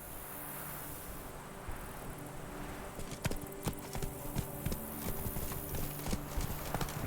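Roach, Geralt's horse in The Witcher 3, starts clip-clopping partway through, hoofbeats growing louder and more distinct in an even rhythm over a quiet ambient bed.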